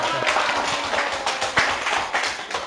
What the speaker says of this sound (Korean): 우리 고생했다고 박수에 한번 한번